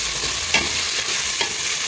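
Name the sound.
stirring dal and rice khichdi with turmeric powder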